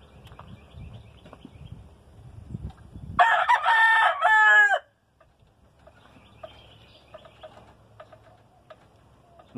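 After some low background noise, a white-legged giro gamecock lets out one loud, clear crow lasting over a second, followed by a quiet, still backdrop.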